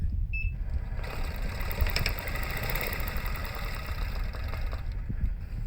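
A sewing machine runs steadily, stitching a whale tail seam on a garment with the presser foot aligned to the seam line, a continuous close mechanical hum and vibration that holds at an even level throughout.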